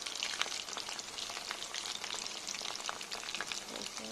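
Food frying in a pan for khichuri, a dense continuous sizzle and crackle with small spitting pops, steady and close throughout with no voices.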